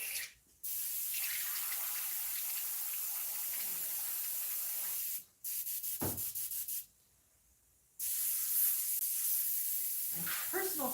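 An airbrush sprays paint in long, close hissing bursts separated by short silences, with one stretch of quick pulsing sprays in the middle.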